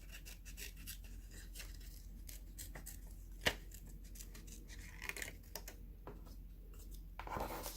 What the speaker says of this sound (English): So I'm going to cut out my circle.